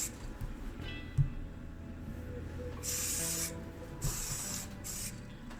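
Black primer sprayed from an aerosol can onto a Hot Wheels Hummer: two short hissing bursts of spray, moderately close, separated by quiet handling clicks and faint room noise.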